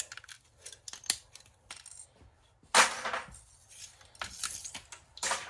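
Plastic fan blades snapped off scrapped security system parts give sharp clicks, cracks and rattling clatter in irregular bursts, close by, with one louder crack midway and no talk.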